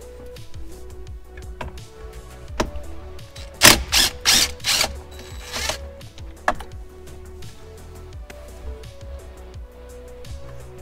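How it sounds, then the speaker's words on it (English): A ratchet with a 16 mm socket undoes the steering wheel bolt on a BMW E82 with DCT: a cluster of loud, close, sharp clicking bursts around the middle, with quieter scattered ticks before and after. "use your 16 millimeter socket here on the bolt"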